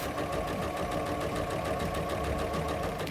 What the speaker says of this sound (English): So we want to keep the machines in good condition. Now, I'm going to sew forwards.